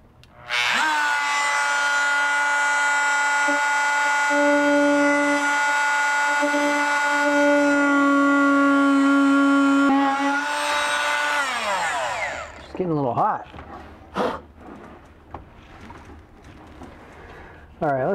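Small Dremel rotary tool cutting through a fiberglass instrument panel for a Lancair homebuilt kit plane, a loud steady high whine that runs for about twelve seconds then spins down, followed by a few shorter bursts and handling noises.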